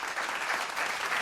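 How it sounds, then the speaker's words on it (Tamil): A brief burst of audience applause at a Tamil stage talk show about painting: dense, even clapping from a crowd, fairly quiet and steady. "ஒரு உற்சாகமான கைத்தட்டல்கள் கொடுக்கலாம்."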